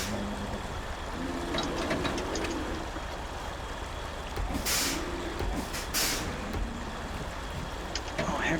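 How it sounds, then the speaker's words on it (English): An air brake hiss sounds on a truck in the SnowRunner video game as the handbrake is set, with sharp bursts of air over a steady engine rumble. "Oh, handbrake."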